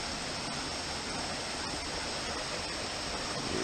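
A rocky creek in Los Padres National Forest in early June, running high and spilling over small waterfalls: a steady, close, broadband rush of water with no break and no voices.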